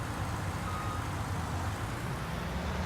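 Truck reversing in Farming Simulator 19, giving a steady low engine drone with a faint, continuous backup-beep tone over it, holding even throughout with no talking.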